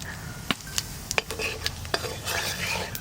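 Dry red chillies and whole cumin fry in hot oil in a pan before meat goes in, with a soft steady sizzle, several sharp clicks and taps of a spatula against the pan, and stirring scrapes close up.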